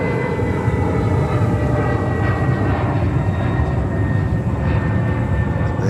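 A Boeing 787 Dreamliner taking off at JFK Airport gives a loud, steady roar of jet engines with a broad rumbling wash that holds throughout at close range.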